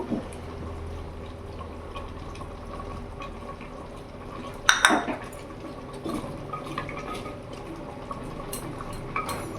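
Peeled, cut and washed potatoes go into a cooking pot of simmering chicken with one brief, clattering splash against a low, steady bubbling background.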